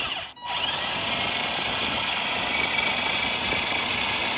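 A Kubota tractor engine and gearbox running under full load: a loud, continuous, steady mechanical drone with whine and vibration, close by, with one brief dip near the start and no talk.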